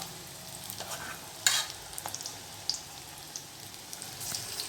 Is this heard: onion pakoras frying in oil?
yes